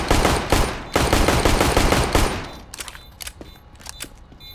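Gunfire in the video game CS:GO: loud rapid bursts of automatic shots for about two seconds, followed by scattered fainter single shots.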